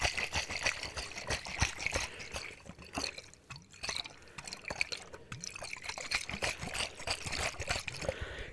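Water trickles, drips and pours in a close, quiet ASMR-style setting, with a steady stream of small splashes and dribbles running through the whole stretch.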